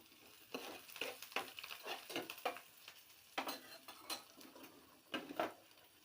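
Green chillies and curry leaves sautéing in a pan, with a faint, steady sizzle under repeated scraping and clinking strokes of a stirring spoon against the metal.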